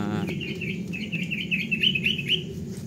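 Old chickens with clipped feathers being let out of their pen, clucking and chirping up close over a steady low rumble of farm background noise.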